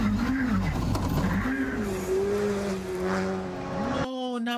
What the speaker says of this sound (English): these cars be sounding like angry goats